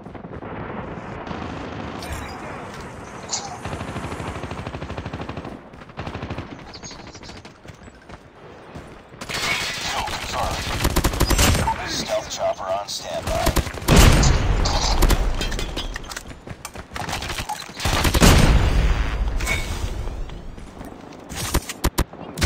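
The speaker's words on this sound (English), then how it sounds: "Sentry gun deployed." A deployed sentry gun firing in a shooter video game: sustained rapid gunfire and booming impacts, loud and dense, with heavier bursts in the second half.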